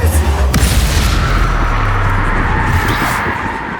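The Incendio fire spell is cast in Hogwarts Legacy: a loud, whooshing burst of flame opens the moment, then a deep rumble fades away over a few seconds.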